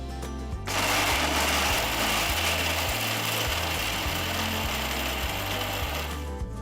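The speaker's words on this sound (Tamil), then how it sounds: "ஒரு மிக்சர் ஜாரில் நாற்பது கிராம் அளவுக்கு சுக்கு சேர்த்துக்கோங்க இது கூட முப்பது கிராம் தனியா அஞ்சு கிராம் மிளகு எல்லாத்தையும் நல்லா ஸ்மூத்தாக பொடிச்சுக்கலாம்" A mixer grinder whirs loudly and steadily as it grinds dry ginger, coriander and black pepper in a jar to a smooth powder. The motor starts abruptly and runs continuously with no talking.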